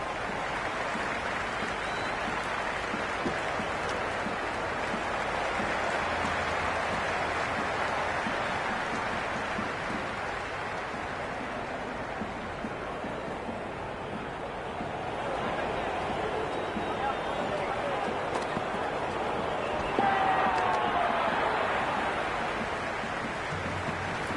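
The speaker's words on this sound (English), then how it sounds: "There's a buzz, a real buzz coming from the stands." Steady, broad wash of crowd noise from the stands in the video game Cricket 26, a continuous roar that swells slightly near the end with no speech over it.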